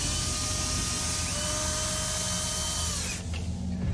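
A loud, continuous whine of a power tool cutting or unscrewing a thick plexiglass sheet sealing a doorway, holding a steady high pitch close by before abruptly stopping near the end.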